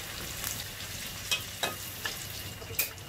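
Oil crackles and sizzles steadily as chicken pieces fry, with a few light scraping knocks of stirring scattered through.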